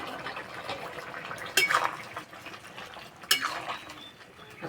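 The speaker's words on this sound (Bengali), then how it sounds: "এবার ভেজে রাখা আমড়ার বড়া দিয়ে দেবো।" Fried hog plum fritters dropped into a simmering pumpkin curry in a pot: two sharp clinks of a utensil against the pan over a soft, steady bubbling background.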